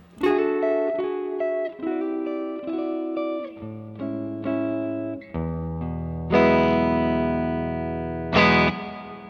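An electric guitar plays chords through the plate reverb setting of a Universal Audio reverb pedal, bright and slightly distorted, each strum ringing out with a lush decaying tail. The notes shift in pitch across several sustained chords, with no talk.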